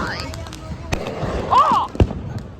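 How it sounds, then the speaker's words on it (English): Fifth of July fireworks bursting at low height, a few sharp pops and cracks in the distance while people talk nearby. "You can see some of the fireworks, but they don't really get as high."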